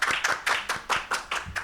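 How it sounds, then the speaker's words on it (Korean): Clapping in a hall at a Korean ESG forum as a lifelong-education speaker is introduced, seven or eight crisp, evenly spaced hand claps close by, sounding like only a few people. "큰 박수 모시겠습니다."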